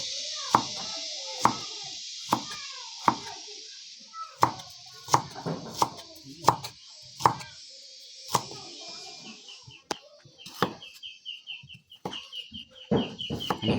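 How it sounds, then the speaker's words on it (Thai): A knife slices shallots on a chopping board in a highland home kitchen, giving a run of sharp, regular chops roughly every half second. Chickens cluck and chirp continuously in the background. "ซอยหอมแดง"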